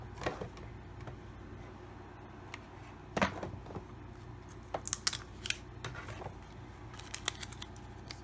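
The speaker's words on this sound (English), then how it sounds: "we just need to get our image cut out in the same shape" Scissors snipping through a vellum overlay for a handmade lemonade card, with short crisp cuts in irregular bursts and pauses, close and fairly quiet over faint room noise.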